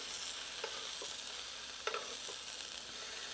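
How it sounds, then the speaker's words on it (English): Steady, dense sizzling of beef steak frying in a pan, with a few faint clinks and scrapes over the constant hiss. "Good sizzle going on."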